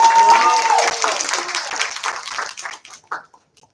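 Audience applause at a student network national event in Varna, loud dense clapping with some cheering voices that thins out and dies away into silence.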